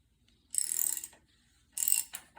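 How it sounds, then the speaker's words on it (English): A plug is worked loose from a windmill hub, giving two short grinding, ratcheting metallic bursts with a fainter click afterward, close and fairly loud against near silence. "now we need to take this plug out"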